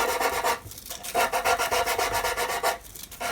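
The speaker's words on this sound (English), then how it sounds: "smooth off that top nut." A file rasps back and forth over the top nut of a violin, in a run of quick, rhythmic rubbing strokes with a short pause partway through, close and clear without talk.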